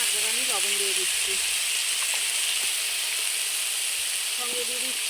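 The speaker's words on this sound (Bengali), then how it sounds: "বেগুন ভাজার মধ্যে দেখুন একবার আমি লবণ দিয়ে দিচ্ছি" Eggplant fries in mustard oil as salt is added, producing a steady close hiss and sizzle under brief speech.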